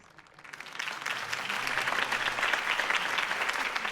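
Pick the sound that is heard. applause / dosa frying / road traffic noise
applause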